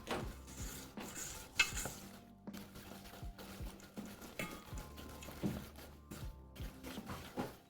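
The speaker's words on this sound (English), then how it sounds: "We're just whisking until it's smooth." A whisk beating a mixture in a bowl until smooth, a quick busy run of soft taps and scraping clinks, close and fairly quiet, with no talk over it.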